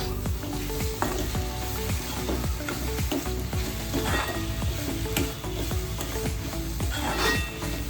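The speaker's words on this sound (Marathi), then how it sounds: "मीठ टाकून आपण मिक्स करून घेऊया पूर्ण ठेच्यामध्ये" Green chilli thecha frying in a pan as salt is mixed in, a steady close sizzle with a busy run of scraping and knocking stirring strokes throughout.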